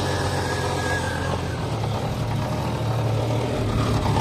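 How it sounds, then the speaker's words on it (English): A 1989 Jeep XJ with the 4.0L engine idles with a steady low exhaust drone, and a loose exhaust rattles against the transmission underneath, a close, even rumble with no voices. "it really just sounds like exhaust farts"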